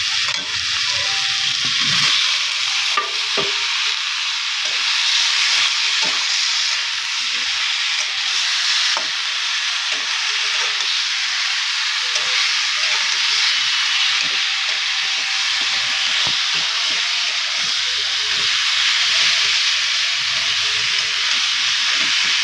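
Cut brinjal pieces fry loudly in a hot pan, making a strong continuous sizzle with the hiss of steam and occasional clatter from stirring that runs the whole time.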